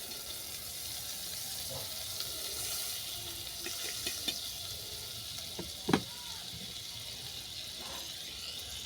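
Butter melts and sizzles in a kadai, giving a soft, steady sizzle throughout with a few faint clinks and one sharper clatter.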